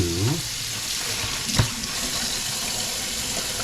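Cold water runs steadily from a kitchen tap into a sink, a continuous close splashing rush with a brief clunk near the middle, no talking.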